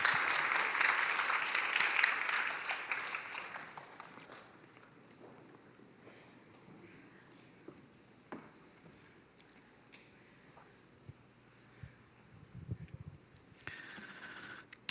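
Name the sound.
congregation applause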